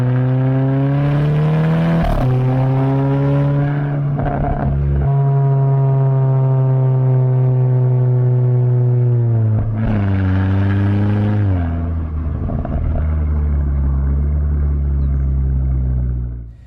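A VW Golf Mk6 R with an EA113 engine and full Milltek exhaust revs loudly near the tailpipe, the tone rising and falling through several blips over a steady droning idle.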